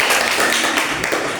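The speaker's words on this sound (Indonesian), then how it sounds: "kita beri tepuk tangan untuk kelompok" A classroom of eighth-grade Catholic religion students claps for a presenting group, a brief dense patter of many hands filling the room at steady loudness.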